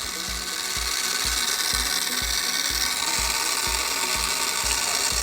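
A motorized classic plastic model car kit (Benz, BMW or Audi) runs its ungreased gears, giving a steady high whir with regular, evenly paced ratcheting clicks, close and fairly loud, with no speech.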